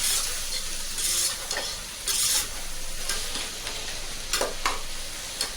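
Sliced tomatoes sautéing in a pan on medium flame, a constant sizzle broken by several bursts of scraping stirs.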